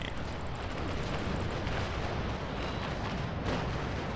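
Ship cannons firing in the naval game Naval Action, aboard the Santisima: a dense, continuous roar of overlapping broadside blasts that stays loud and unbroken throughout, with no voice.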